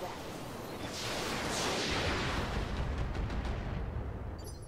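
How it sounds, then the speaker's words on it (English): Missiles launching in the video game Roguepoint, heard as a dense, loud rushing roar of rocket fire with a burst of crackling impacts, while a voice speaks underneath. "That doesn't mean you can't use your missiles."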